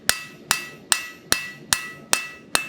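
A blacksmith's hammer strikes hot metal in a steady rhythm, seven sharp ringing blows about 0.4 seconds apart, close and loud with a bright metallic ring after each hit.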